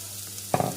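Two chopped medium onions hit a hot pan, bursting into a sudden close sizzle midway after a quiet stretch, the frying hiss swelling and then settling, with no voices.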